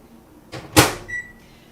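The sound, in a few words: microwave oven being loaded and started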